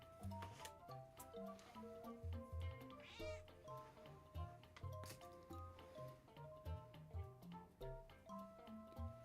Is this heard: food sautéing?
no